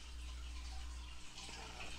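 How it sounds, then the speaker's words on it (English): Water runs steadily from a hose into a Top Fin Essentials 37-gallon aquarium tank as it fills, a continuous soft rushing wash with a low hum underneath, with no talking. "we're going to go ahead and add the water and fill the tank up."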